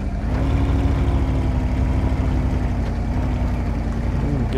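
Virtual logging truck engine in SpinTires idling and revving with a steady droning hum and faint tonal whine, continuous and fairly loud, dipping slightly near the end.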